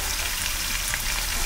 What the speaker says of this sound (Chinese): 先煎到金黄色